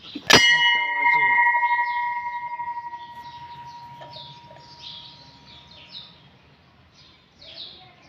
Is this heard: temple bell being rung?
yes